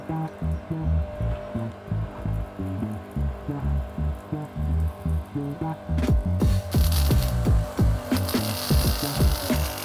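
A Karcher K4 pressure washer runs while drawing water from a paddling pool. It throbs and pulses rhythmically, then turns louder with hissing spray near the end.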